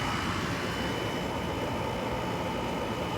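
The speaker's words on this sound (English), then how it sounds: "Got the dehumidifier running." Indoor dehumidifier running near a room of dwarf shrimp breeding tanks, giving a constant broadband whooshing hiss with a low hum underneath, steady and unbroken throughout with no voices.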